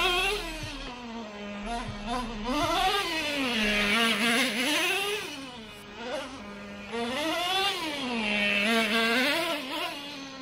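A Traxxas T-Maxx 2.5 nitro RC truck converted to forward-only drive screams steadily close by, its small engine rising and falling in pitch as the throttle is worked, with no talking throughout.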